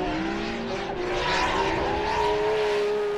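A race car with a Toyota JZ engine screams at high revs, its harsh wail holding steady and loud alongside squealing tires during a drifting or racing run in Australia.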